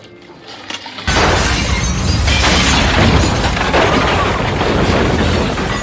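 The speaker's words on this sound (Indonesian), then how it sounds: "bom pun meledak yang menewaskan hampir semua anak buah Sen" A bomb explosion in the film The Punisher (2004): a sudden loud blast erupts after a quiet moment, followed by a sustained roar of crashing, shattering debris.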